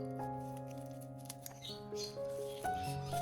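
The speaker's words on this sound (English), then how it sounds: "I take out a pair of scissors and chop the onions into very small pieces." Scissors snipping onions into small pieces in quick, irregular clicks, close by, over a steady tonal hum in the background.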